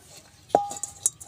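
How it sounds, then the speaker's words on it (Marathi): A metal wok is set down on a wood-fired clay stove, giving one sharp clanking knock with a brief metallic ring, followed by a few lighter clinks nearby. "कढई मांडून घेऊया चुलीवर"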